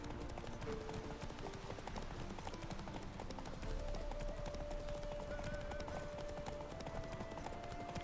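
Horse hooves gallop at speed in The Witcher 3 video game, a steady rapid clip-clop running through the whole stretch over dense game ambience and a sustained musical tone.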